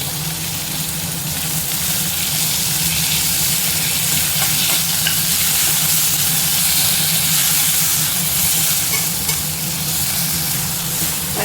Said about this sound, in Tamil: வெங்காயம் இஞ்சி பூண்டு எல்லாமே நல்லா வதங்கிடுச்சு